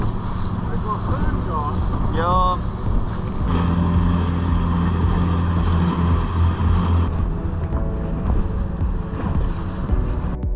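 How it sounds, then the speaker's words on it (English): A motorboat launched from a slipway in South Africa for spearfishing: the engine rumbles steadily over rushing wind and water, with a brief whistle-like chirp early on and some faint voices in the background. "We launch our boat from the slipway ready for a full day of spearfishing."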